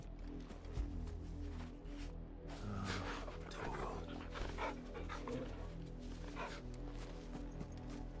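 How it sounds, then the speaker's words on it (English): Torgal, a dog in Final Fantasy XVI, is petted, giving repeated yips, barks and soft whimpers over game ambience, with bursts clustered in the middle of the passage. "You can pet the dog. Pet Torgal 5 times."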